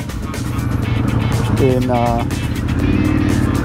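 A Harley-Davidson Pan America motorcycle engine rumbles steadily while riding through Bangkok market-street traffic, a loud close low drone that rises and revs midway, with a voice talking briefly over it.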